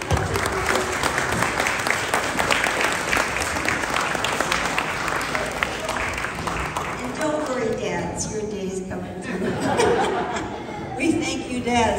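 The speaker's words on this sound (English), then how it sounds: "Let's all give them an applause as they sit" An audience at a Mother's Day gathering applauds a youth choir as it sits down, steady clapping for several seconds that thins out toward the end, mixed with chuckles and murmured chatter.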